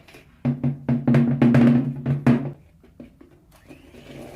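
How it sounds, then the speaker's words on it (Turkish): An electric hand mixer whisks eggs and flour for a lemon sponge cake, loud buzzing in short bursts that run together for about two seconds, then stops and leaves only faint rattles. "Şöyle mikserimizle bir çırpalım."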